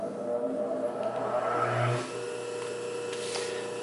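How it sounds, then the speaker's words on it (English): A Pfaff 145-H3 industrial sewing machine with a quiet clutch motor and triple feed stitching two layers of Naugahyde: a steady motor hum with a short, louder burst of running partway through, with no voices. "I'm just sewing 2 layers of a Naugahyde."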